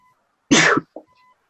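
A single sharp sneeze bursts out close by, followed a moment later by a brief soft sound, with near silence before and after.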